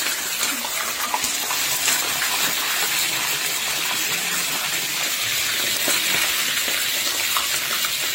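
Milkfish pieces frying in hot oil in a pan for bangus sisig, a steady, dense crackling sizzle that holds evenly throughout with scattered sharper pops, close and moderately loud with no talking.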